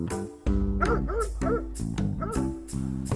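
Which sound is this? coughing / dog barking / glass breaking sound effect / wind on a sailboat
dog barking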